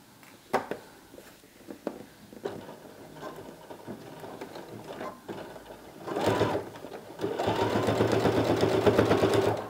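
Sewing machine stitching a binding strip onto a doily edge, faint handling taps at first, then a short run and a longer steady whirring stretch, close by.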